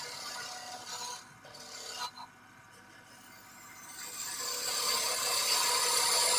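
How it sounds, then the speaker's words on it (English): An oak lidded box held in a scroll chuck is shaped on a wood lathe with a half-inch spindle gouge, giving a steady hissing, scraping cut that drops briefly and then grows louder and brighter toward the end. "mounted the piece in scroll chuck, and I am using a 1/2" spindle gouge"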